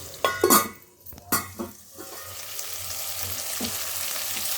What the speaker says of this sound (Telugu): ఇలా వంకాయలు అయితే వేసుకున్నాం కదా, ఇవి కాస్త ఇప్పుడు ఫ్రై అవనిద్దాం.